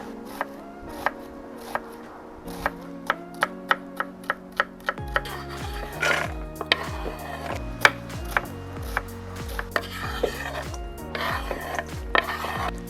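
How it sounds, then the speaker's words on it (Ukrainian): Knife chopping an onion into cubes on a board outdoors beside a campfire, a fast series of sharp taps against a steady background hum, with music playing underneath. "Цибулю нарізаю кубиком."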